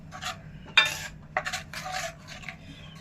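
A spoon scrapes and stirs coriander seed powder and spices in a bowl for a sweet, sour and spicy lemon pickle, giving a few close, soft scraping and clinking strokes against a faint steady background hum.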